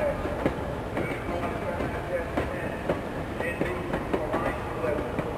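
A cartoon passenger train rolls along with a steady rumble and faint clickety-clack under light background chatter, with soft rhythmic clanks from the wheels.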